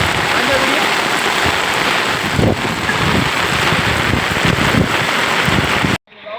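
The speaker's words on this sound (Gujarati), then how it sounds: "આજે બહુ વરસાદ પડવાથી" Heavy rain pours loudly and continuously in Deesa, a dense roaring patter with gusty bumps on the microphone, ending abruptly.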